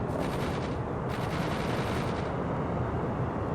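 Sustained automatic gunfire from the World in Conflict strategy game, a dense continuous burst of machine-gun fire and shots filling the whole stretch at steady loudness with no talk.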